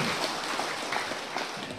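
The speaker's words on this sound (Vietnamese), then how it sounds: "một tràng pháo tay tặng Phật tử" A steady wash of applause from Buddhist lay followers at a Dharma talk, continuous and even throughout, many hands clapping together with no single clap standing out.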